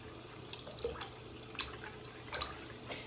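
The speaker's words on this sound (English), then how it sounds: "I'm sorry for the background noise of the water." Water drips and trickles at a bathroom sink while hands wet a face, a few soft, scattered drops and splashes heard faintly and close by, with no talking.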